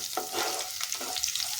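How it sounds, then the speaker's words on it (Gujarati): Curry leaves crackle in hot oil while a spoon stirs the tempering for a sweet potato farali chevdo, giving a brief burst of close, bright sizzling and popping. "તો વઘાર આપણો અહીંયા સરસ તતડાઈ ગયો છે"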